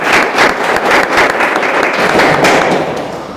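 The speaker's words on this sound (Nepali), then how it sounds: "एकले अर्कालाई चाहिँ ताली बजाएर चाहिँ हामी स्वागत गरौँ न" A Bible class welcomes a new student with a burst of group hand clapping, dense and steady for a few seconds, close and loud with no talk over it.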